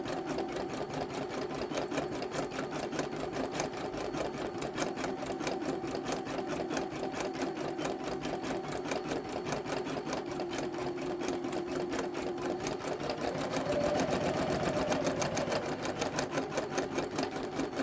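A Janome Memory Craft 10001 embroidery machine stitches a scarecrow design, a steady, fast mechanical needle chatter running continuously at close range, growing slightly louder near the end, with no talking.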